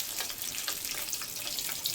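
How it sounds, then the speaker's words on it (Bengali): Pond fish frying in a pan make a steady hissing sizzle, close and fairly quiet, with no one talking. "এখন মাছ ভাজা চলছে"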